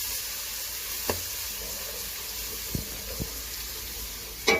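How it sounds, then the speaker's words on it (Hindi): Garlic paste frying in a pot with browned onions and green chillies, a soft continuous sizzle under a few light clinks and scrapes of stirring, with a louder scrape at the end. "अब मैं इसको कुछ सेकंड के लिए भून लूंगी।"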